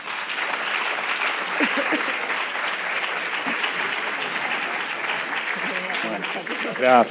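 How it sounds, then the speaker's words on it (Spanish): Steady applause from a sizeable audience at the end of a law lecture, continuous and fairly loud throughout, with a voice breaking in near the end. "Vamos a agradecerle con nuestro caluroso aplauso"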